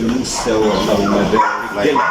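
Dogs at a Sunday dog market in Casablanca yip and bark close by in short bursts, mixed into loud crowd chatter and someone talking over them.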